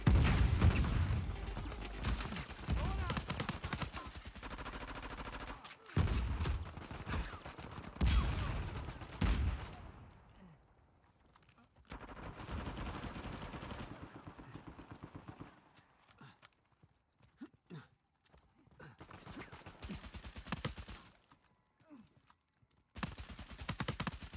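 Gunfire in an online shooter game, with bursts of rapid shots and booms coming in loud clusters and broken by short quiet gaps.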